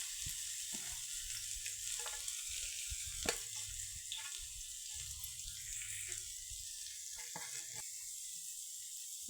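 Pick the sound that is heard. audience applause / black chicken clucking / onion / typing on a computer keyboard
onion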